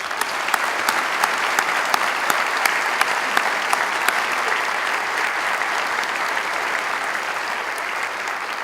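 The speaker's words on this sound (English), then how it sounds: "Please, a big round of applause for all those." A crowd at a Fort Lauderdale memorial service honoring Orlando gives a long, steady round of applause, dense sustained clapping from many hands with a few sharper claps standing out, continuing without a break.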